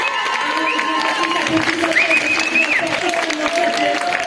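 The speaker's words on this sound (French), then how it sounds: "vous pouvez applaudir bien fort" Spectators at a roller derby bout cheering and clapping in a large venue, a broad sustained crowd roar with whistles and shouts, while an announcer's voice carries over it.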